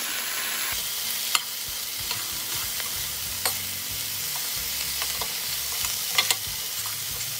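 Peas and carrots stirred through a sizzling pan of potato pulao, a steady crackling fry broken by intermittent scraping strokes and a few sharp clinks, close up.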